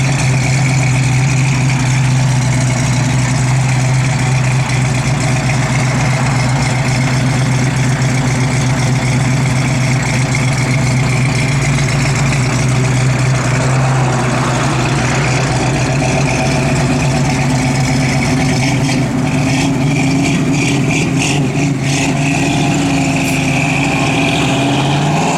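A 1967 Ford Mustang's engine idles steadily throughout, a loud, constant low rumble with no voices.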